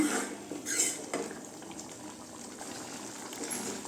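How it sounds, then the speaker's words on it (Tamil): Soft bubbling and simmering of masala gravy for dried anchovy thokku in a pan up close, with a light clink of a utensil near the start, no voices. "நல்லா கொதிக்கட்டுங்க"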